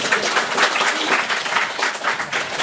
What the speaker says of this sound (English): Guys, I think he deserves a round of applause for that.